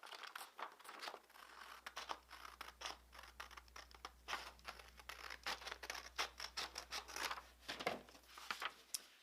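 Scissors cut along the edge of a sheet of printed paper, giving a close, steady run of crisp snips and crinkling paper with short pauses between strokes.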